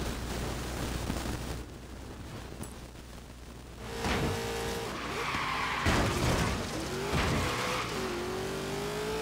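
A car drifts in Forza Horizon 3 during the Hot Wheels expansion. The engine revs and a long, wavering tire squeal rises over a droning in-game soundtrack, all fairly loud.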